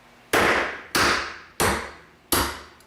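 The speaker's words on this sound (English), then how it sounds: "I want to strike dead on the head of this punch here." A 1 pound brass hammer strikes a metal punch resting on a urethane pad, four sharp, loud, close blows spaced evenly apart, each ringing briefly before fading, with no talking.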